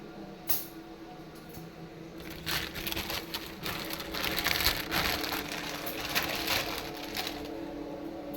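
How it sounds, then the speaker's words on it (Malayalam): Bread crushed by hand into crumbs in a home kitchen while making chicken rolls, with soft crackling, crunching bursts that come in close, irregular clusters over a faint steady background hiss. "ബ്രെഡ് നമുക്കൊന്ന് പൊടിച്ചെടുക്കണം"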